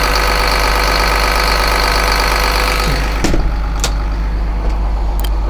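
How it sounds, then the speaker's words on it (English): The Cat 3126 turbo diesel engine of a 2004 Thomas Saf-T-Liner school bus idles steadily up close with a deep, constant rumble, joined by a few brief clanks near the end. "This is powered by the Cat 3126 turbo diesel engine"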